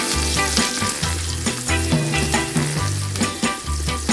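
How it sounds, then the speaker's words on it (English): Butter melts in a little oil in a pan, giving a steady, close sizzle and frying hiss that runs throughout under faint background music. "Naglagay ako ng konting oil at saka butter. Minelt natin yung butter."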